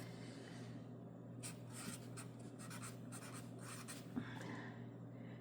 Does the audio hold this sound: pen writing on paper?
yes